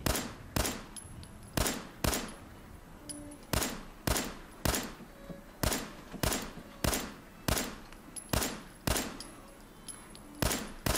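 Single loud gunshots from Fallout 4 ring out in a steady rhythm, about a dozen over roughly eleven seconds, each sharp crack followed by a short decaying tail, with no talking between them.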